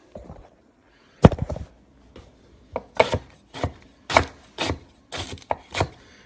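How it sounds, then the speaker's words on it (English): Ginger being rough chopped with a knife on a wooden board: a series of sharp, close knife strikes in uneven bursts with brief quiet gaps, alone without talk. "So I'm just going to start rough chopping the ginger."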